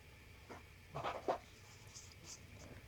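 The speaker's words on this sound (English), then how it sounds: "I'm going to cut right along that fold" Scissors snip along a folded fabric circle, a few short quiet cuts close by with soft rustling in between.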